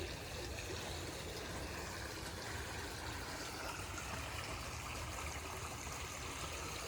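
Steady broadband rush of flowing water over rocky shoals, continuous and even throughout, like a nearby river running by with no voices, at Landsford Canal State Park in Catawba, South Carolina.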